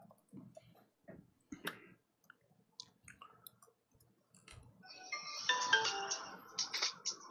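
Phone ringback tone while a call connects, sounding as a bright burst of repeated ringing near the end, after sparse clicks and quiet handling noises.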